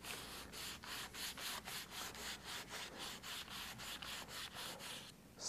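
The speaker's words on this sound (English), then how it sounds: "So what I'm going to do is taking my sanding block with fine sandpaper," A fine sandpaper on a sanding block works over a model rocket fin with quick, even back-and-forth strokes, a close rhythmic scratchy rasp repeating about three times a second before stopping.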